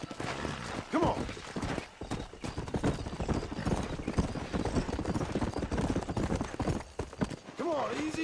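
Hooves clip-clopping in a quick, steady rhythm from a horse being ridden in the video game Red Dead Redemption, with a brief whinny and snorting, mixed with other game sounds.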